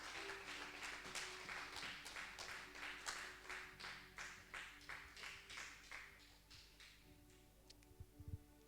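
A church congregation claps together in a steady rhythmic beat during worship, the applause sustained and even before thinning out and fading near the end.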